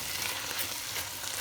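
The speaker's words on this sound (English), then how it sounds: "And we'll give it another stir." Risotto cooking in a pan, a dense continuous sizzle and bubbling heard up close, with soft stirring beneath and no talk.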